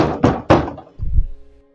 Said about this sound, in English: start to hear a pound on the door